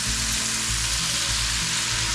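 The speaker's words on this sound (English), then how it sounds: "bacon's sizzling up real good" Steady, loud sizzling of bacon and onion frying in bacon fat in a hot pan, a constant crackling hiss with no talking.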